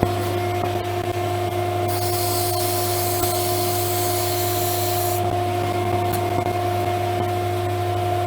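Sandpaper pressed against turned wood spinning on a woodturning lathe, working through fine grits up to 400, gives a steady broadband rubbing hiss over the constant hum of the machine, swelling louder for a few seconds in the middle.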